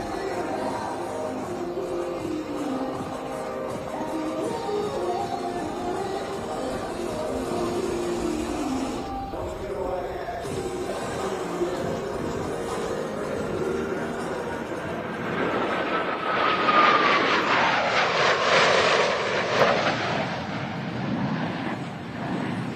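A Blue Angels jet roars past at the Tinker Air Show, building from a steady background rumble into a loud, close swelling pass with a falling Doppler sweep, while an announcer talks over the crowd noise.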